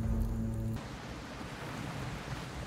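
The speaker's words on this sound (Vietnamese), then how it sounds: "trời đổ mưa anh em" Steady rain hisses across a survival island in the video game Project CastAway, a broad constant wash that keeps going after a low game tone cuts off early.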